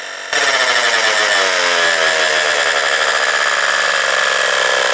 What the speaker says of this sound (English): The Tower Top portable air inflator is now up, pumping the front tire of my Sonata Austin electric bike from 0 to 35 psi